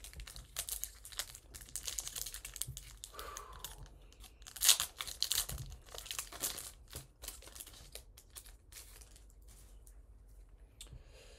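Crinkling, tearing foil of a Pokémon Obsidian Flames booster pack being ripped open, close and fairly quiet, with scattered crackles and a sharper rip near the middle of the handling.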